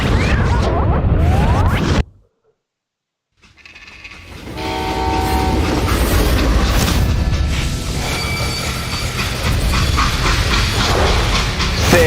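A freight train rolls along in the Wild West shooter Call of Juarez: Gunslinger, a steady loud rumble with rattling cars and tonal whistle-like squeals that starts after a brief silence and continues to the end.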